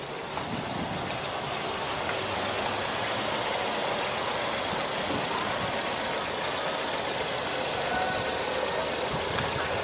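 A 2015 Ford Escape's engine running with the hood open, a steady even idle hum heard close up and continuous throughout, with no talk over it.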